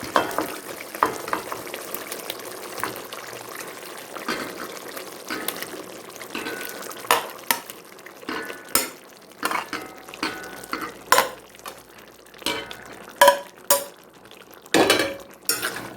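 Beef fry being stirred in a pan, with irregular scraping, clattering spoon knocks and bursts of sizzling over a low background hiss, growing busier and louder toward the end.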